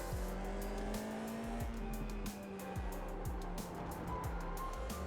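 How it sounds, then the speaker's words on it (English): A Formula 4 single-seater race car at Silverstone circuit, engine revs climbing in repeated rising sweeps with quick upshifts, steady and fairly close, with rushing wind noise over it. "We will be romping it up in this F4 car."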